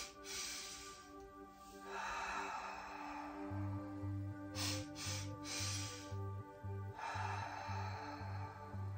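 Slow breaths drawn in through the nose and let out through the mouth, soft airy inhales and exhales over a quiet low musical drone, gentle and close.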